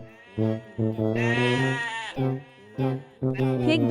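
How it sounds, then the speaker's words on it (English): A sheep or lamb on a farm bleats several times in close succession, with one long, wavering call in the middle, loud and near. "Sheep baby is lamb."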